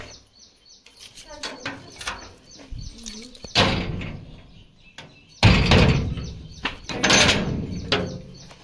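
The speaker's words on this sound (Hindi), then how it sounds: "अपन दूसरा घर का दरवाजा लगा दो दोस्तों" A door at a house in India swings shut, with two loud broadband thuds, the second heavier like a slam. People talk and move about nearby.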